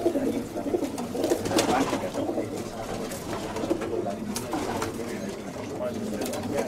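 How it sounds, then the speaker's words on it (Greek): Pigeons in a fancy-pigeon loft in Thessaloniki coo in low, repeated rolling calls, several birds close by, steady throughout, with a voice talking over them. "αυτά είναι τα περιστέρια"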